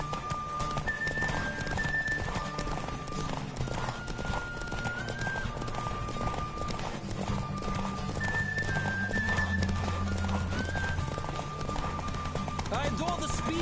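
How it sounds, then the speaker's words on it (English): A horse gallops in The Witcher 3 with rapid clip-clop hoofbeats and an occasional whinny, set against steady musical tones and some speech. "Don't spare the horse!"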